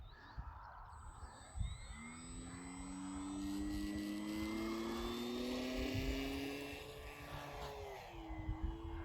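A VTOL model aircraft spools up and lifts off outdoors, its motors rising into a whining drone that holds for several seconds, glides in pitch and then fades as the throttle comes down. The sound is faint and distant.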